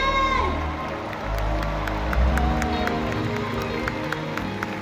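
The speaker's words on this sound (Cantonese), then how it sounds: "俾啲掌聲你哋自己" A concert audience in a large arena applauds and cheers at a Singapore stop of a world tour, a steady wash of distant clapping and whoops under a lingering musical tone.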